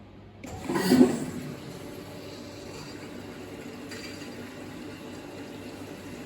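Pump on a CNC die sink EDM starts up and fills the work tank with dielectric fluid, a brief gushing surge of liquid followed by a steady low flowing wash that continues to the end.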